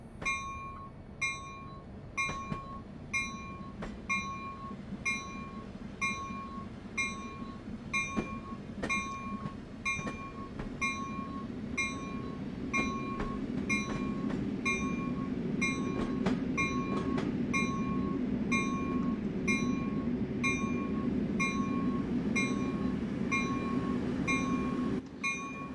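A passenger train in Train Sim World 3 pulls away and runs on, its steady rumble and clattering wheels building louder over time while a high repeating tone pulses at regular intervals throughout.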